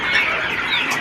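Young poultry chicks on a farm jostle and peck over feed, a dense, continuous chorus of high, overlapping cheeps and clucks close by, steady throughout with no clear gaps.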